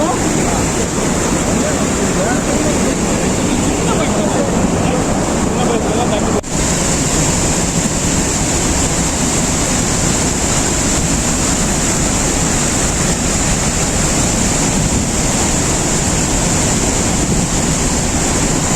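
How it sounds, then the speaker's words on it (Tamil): A sudden flash flood pours over Chinna Suruli waterfall in Theni district, a loud, unbroken roar of rushing water that fills the whole stretch without pause. "சின்ன சுருளி அருவியில் திடீர் வெள்ளப்பெருக்கு ஏற்பட்டுள்ளது"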